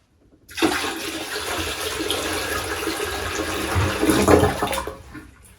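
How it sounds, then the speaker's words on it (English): A household toilet flushing without power after water is poured rapidly into the bowl, a loud close rush of water that swells and churns for several seconds, then drains away and quiets. "keep a close eye as we pour this water in, you will see that flush."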